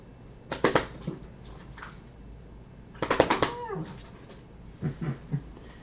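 A pet pup whimpers and whines indoors in a few short, close, high-pitched bursts separated by pauses, over a quiet background hum.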